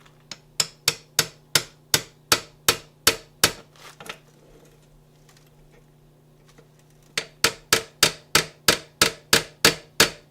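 A hammer taps a new U-joint bearing into the driveshaft yoke of a Ford Explorer in quick, even, sharp strikes, about fourteen in a row, then a pause of a few seconds, then another dozen or so.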